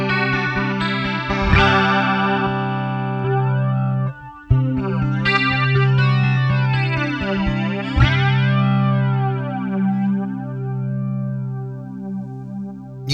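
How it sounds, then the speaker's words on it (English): Electric guitar played through a made-in-Japan BOSS BF-2 flanger pedal, ringing chords with a sweeping, sparkly jet-like shimmer, a brief break near four seconds, then sustained strums fading out. "You can just hear the flange is a lot more sparkly"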